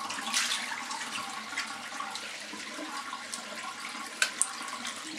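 Water running steadily from a sink tap, one of separate hot and cold taps, while a face is washed during a wet shave with foam and a cheap disposable razor; a continuous hiss with a few brief splashes.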